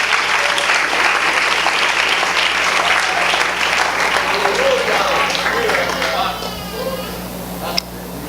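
Church congregation bursts into loud, dense applause that carries steadily for several seconds, then thins and fades, with a low hum underneath and a brief sharp knock near the end.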